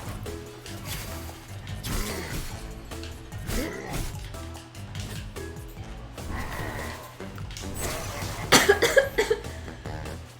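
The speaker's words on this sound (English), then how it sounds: "Oh, that was a bad time for a coughing fit." A person coughs in repeated harsh bursts during a streamed video game session, the coughs mixed with game sounds and ending in a louder cluster of hacking.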